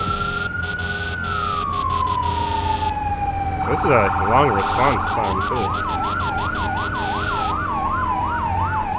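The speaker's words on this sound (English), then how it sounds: "I think we just have one siren. Yeah, just one siren." A fire truck siren in a firefighting simulator game starts as a long steady tone that slides lower, then switches to a rapid rising-and-falling wail, loud and up close, while someone talks over it.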